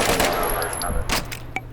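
Rapid rifle gunfire in Battlefield, a quick burst of shots close and loud lasting under two seconds, with someone talking over it.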